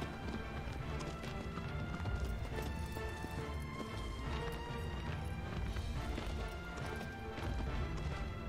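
Rapid hoofbeats of a galloping horse in Shadow of the Colossus on PS4 pound steadily throughout, loud and dense, with occasional crashes and a brief whinny in the mix.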